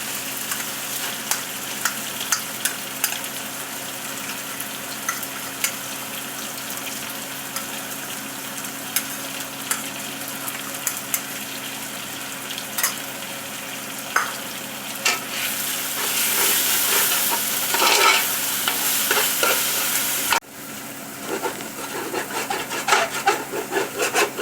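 Thick ground chilli paste frying in a pan for Muslim-style mutton biryani gives a steady, close hiss, with rhythmic scraping strokes of a spoon. The sizzle swells louder in the later part before settling back.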